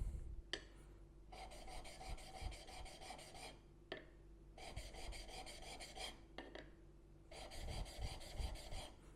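A blade's bevel is rubbed back and forth on a 600 grit sharpening stone, giving a steady gritty rasping in three long runs of rapid strokes with short pauses between them, close and alone.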